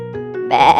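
A sheep on a farm gives a single short bleat, close and fairly loud, rising abruptly after a faint tonal lead-in.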